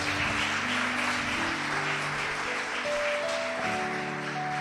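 A church congregation applauds during a sermon, a dense, steady wash of clapping that fills the room for several seconds while sustained keyboard or organ notes hold underneath.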